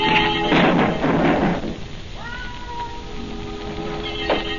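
A cat meows and yowls as a sound effect in a 1940 radio crime drama, a loud rising cry after a noisy scuffle, with a shorter meow near the end over a hiss of old recording.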